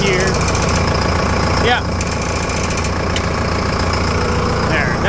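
A John Deere 6430 tractor engine idles with a steady, loud, rattly rumble and some vibration, running continuously while a person briefly speaks nearby.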